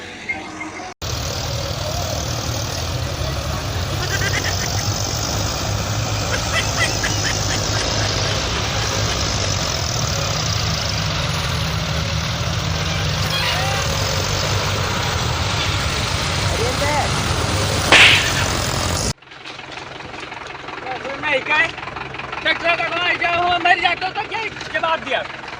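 A heavy tractor engine drones steadily and loudly for most of the stretch, then cuts off; people talk and shout over it during field ploughing.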